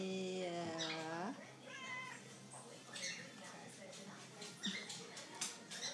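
A pet cat meows while being petted, a drawn-out rising-and-falling meow up close at the start, followed by softer faint vocal sounds and light rustling.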